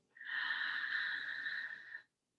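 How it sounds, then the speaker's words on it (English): One long, deep inhaled breath, close and airy with a wheezy hiss, lasting about two seconds before stopping cleanly into silence. "So we take a big deep breath in"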